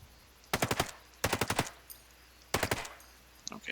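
Assault rifle automatic fire in the video game Ghost Recon Breakpoint: three sharp, loud bursts of rapid shots in quick succession, separated by short pauses, with a faint single report at the end.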